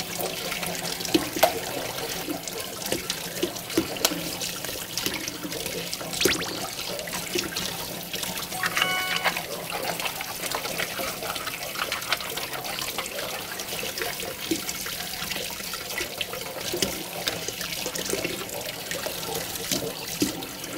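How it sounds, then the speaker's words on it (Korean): Mussels rinsed together under a running tap in a home kitchen, a steady close splashing and trickling water stream that continues without pause, with occasional clinks of shells rubbing against each other. "한 3개 정도, 4개 정도 이렇게 흐르는 물에 같이 씻어주면은 서로 마찰이 일어나서 이물질은 쉽게 제거가 됩니다"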